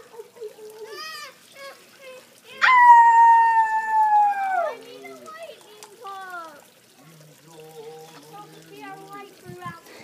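A wolf howl rises out of quiet, a long sliding tonal cry with shorter yelps before it, mid-distance, followed by softer chattering voices and brief splashing sounds.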